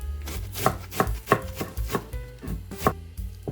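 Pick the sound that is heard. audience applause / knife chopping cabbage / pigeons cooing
knife chopping cabbage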